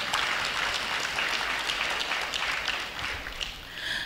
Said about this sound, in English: Let's give them a rousing round of applause.